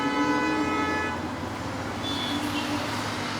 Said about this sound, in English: Hella honking back here